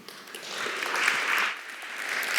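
Crowd applauding and cheering at a FutureEverything 2015 talk, a sustained wash of clapping that swells in the middle and stays steady throughout, with no speech over it.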